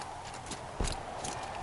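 Horse hooves clip-clop in a steady rhythm in the video game Horizon Zero Dawn, close and moderately loud, with a low rumbling ambience beneath.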